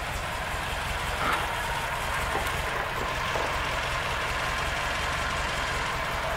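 A Chevrolet Opala from the 1970s or 80s idles steadily in a garage, its low engine rumble constant and moderately close throughout, with no talk over it.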